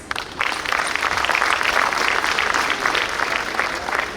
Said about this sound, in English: therefore deserve a resounding applause